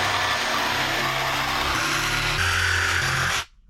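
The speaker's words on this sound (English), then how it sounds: "Go and grab the jigsaw," Continuous buzzing rasp of a jigsaw cutting a speaker opening in a Toyota Land Cruiser 79 Series door panel, close and loud, stopping abruptly at the end.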